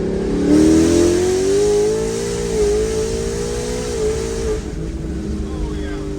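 A Ford Mustang GT fitted with a Cobra Jet setup revs briefly, its loud engine note rising, holding and then dropping back to a rough idle, heard close up.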